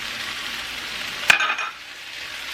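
Cactus pieces with added corn and tomato are stirred in a hot frying pan, giving a soft steady sizzle with one sharp utensil clink and a brief scrape before the frying settles quieter.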